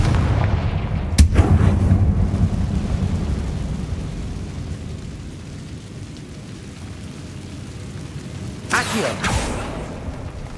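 The Confringo blasting spell explodes in Hogwarts Legacy with a sharp crack and a deep, booming roar that slowly fades, then a second burst of blasts follows, loud and close.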